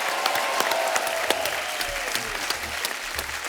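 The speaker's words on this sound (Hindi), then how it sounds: "जोरदार तालियां।" Audience applause on the set of a Hindi TV comedy talk show, steady dense clapping with sharp individual claps and some crowd cheering, loud and close, running unbroken with no one speaking over it.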